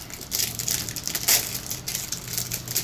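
Someone bites and chews into Russian gingerbread filled with apples, apricots and honey, giving close, soft crunching and crinkly chewing noises in short bursts over quiet room tone.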